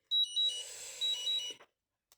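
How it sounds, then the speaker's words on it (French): A small electronic machine gives a run of four high, clean beeps in quick pairs, loud and close in a quiet room, then falls silent. "C'est ma petite machine qui me bip."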